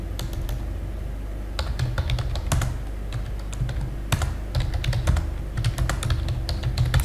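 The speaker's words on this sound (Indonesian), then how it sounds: "bisa kita ketikkan" Continuous typing on a computer keyboard while entering a topic description into exam software: quick, irregular key clicks with occasional louder strokes over a steady low hum, close and clear with no talk.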